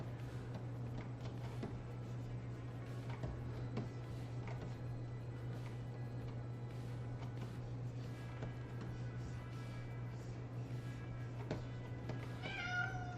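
A pet cat meows repeatedly at moderate distance over a steady low hum and light background noise, with a few brief higher-pitched calls near the end.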